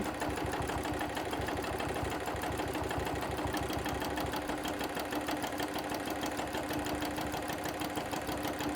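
Sewing machine running steadily during free-motion quilting of an animal fur pattern, a continuous close, even stitching hum with rapid needle clatter, no voices.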